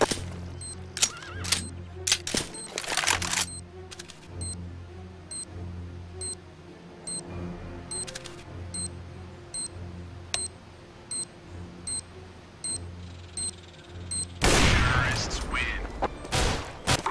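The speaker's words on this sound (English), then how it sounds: "Bomb has been planted." A planted C4 bomb in CS:GO on the Inferno map beeps at a steady, regular interval, faint and high, under scattered gunshots, a burst of heavier gunfire and game voice lines.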